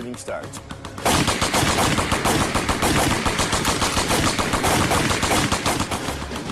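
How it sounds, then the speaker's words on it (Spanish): Sustained machine gun fire rattles loudly and continuously after a short opening, dense rapid bursts filling the scene of a gangland massacre with no pauses. "Y entonces empezaron a disparar."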